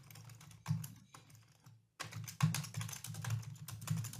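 Computer keyboard typing, close and steady, with quick clustered keystrokes that pause briefly and then resume in a fast run.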